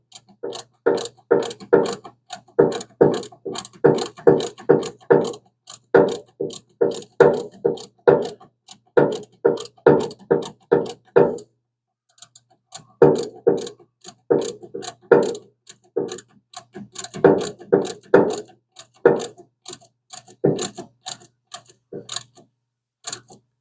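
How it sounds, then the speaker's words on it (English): A ratchet wrench clicks in steady bursts of quick strokes while fastening wiring on a Hemi Duster during a fuse box and main harness install. The clicks are close and crisp, with one short pause midway. "Can't ratchet that much here."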